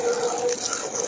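Hot saffron and turmeric milk is poured back and forth to mix it at a winter fair stall, giving a brief, loud, steady liquid splash.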